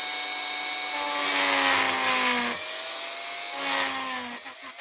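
A Dremel rotary tool fitted with a slightly domed cutter carves texture into wood, a high steady whine that rises and dips in pitch as the bit loads against the workpiece.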